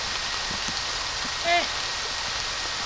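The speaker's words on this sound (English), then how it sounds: "Yes, look at the rain." Rain falls outdoors as a soft, steady hiss throughout, with a faint tonal chirp briefly rising over it midway and a voice speaking quietly in the background.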